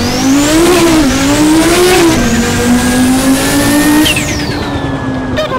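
Audi S1 with its turbo pushed to 100% in the Assetto Corsa racing game, engine revving loudly with rising pitch sweeps and gear changes, a continuous close roar with no talking.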